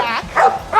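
Shelter rescue dog barking up close, a few short loud yips and barks in quick succession.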